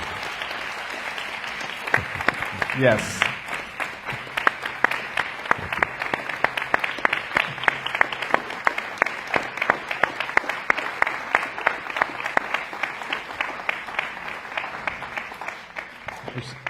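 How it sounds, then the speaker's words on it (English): Church audience applauding a guest speaker after an evening Q&A, a steady wash of many hands clapping that builds quickly and fades gradually over the length, with a brief voice near the start. "if we could just give him a round of applause."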